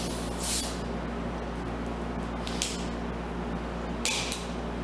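A chilled carbonated soda bottle from the refrigerator hisses open in a few short, sharp bursts of escaping gas over a low, steady background hum.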